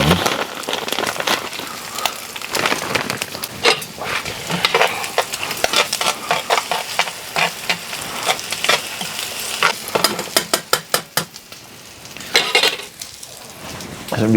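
Cheesy food scraped and stirred in a camping frying pan, with a run of close, sharp scratching strokes over a steady sizzle, no talking.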